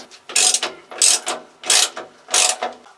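A ratchet wrench clicks in four quick bursts while loosening bolts on a narrowboat's water tank cover, each burst a rapid close metallic ratcheting followed by a short pause.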